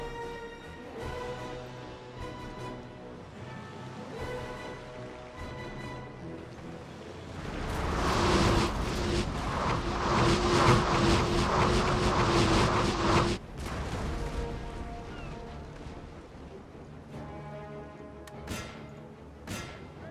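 Naval cannons in Napoleon Total War firing at the sails of an enemy ship, a dense roar of booming shots and thuds building to a loud barrage mid-way, over a backdrop of orchestral music.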